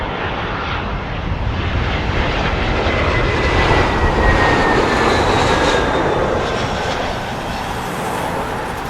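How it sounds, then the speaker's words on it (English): British Airways Airbus A320 landing at Heathrow from Oslo, a loud, near jet roar with whining engine tones, swelling to a peak midway then easing off. "British Airways A320 coming in from Oslo."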